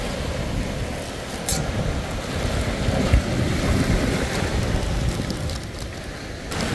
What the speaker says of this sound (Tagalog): Ang narinig lang natin yung hampas ng alon.